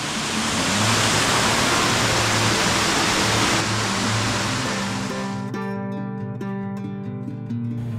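Roaring Brook Falls, an Adirondack waterfall, gives a loud, steady broadband roar for several seconds before it abruptly drops away, leaving quieter tonal sounds that resemble music.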